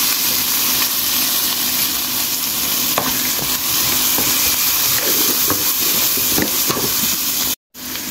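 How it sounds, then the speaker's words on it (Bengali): Potatoes frying in a pan for alu shak vaji, a loud, close, continuous sizzle with scattered stirring scrapes and clicks, broken by a brief cut to silence near the end. "আমি আলুগুলো কিছুক্ষণ ভেজে নেব।"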